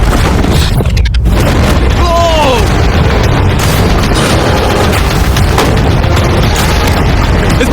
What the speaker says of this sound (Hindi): 5 टैंक्स पैसों पर निशाना लगाकर 20 राउंड फायर करने वाले हैं।